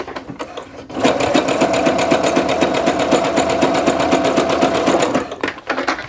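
A sewing machine runs steadily for about four seconds while stitching a 5/8 inch seam on joggers, a fast even mechanical whir with rapid needle ticking, starting and stopping cleanly, heard up close with no voices.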